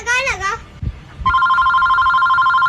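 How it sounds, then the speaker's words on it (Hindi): A telephone rings steadily and loudly in a single continuous tone, heard right after a short burst of a child's high-pitched vocalizing, during a call being placed to a father. "तेरे पापा के पास फोन लगाता हूँ।"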